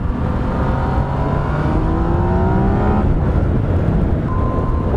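A 2017/18 Yamaha MT-09 motorcycle carrying two riders accelerates hard in standard map with traction control at level 1, engine note rising steadily through first gear, a brief drop at a shift into second, then climbing again, loud and close with wind roar.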